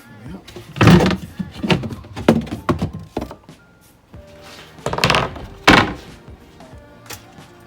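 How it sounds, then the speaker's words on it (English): A small wooden storage door on a camping trailer is pulled out with a few knocks and thunks, alongside scraping and rattling handling sounds, and there are pauses between the bursts of noise. "I must just pull this door out a touch"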